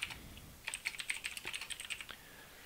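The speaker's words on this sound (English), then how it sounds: "When I type a text" Quiet keystrokes patter on a computer keyboard in an irregular burst of typing, heard close and alone.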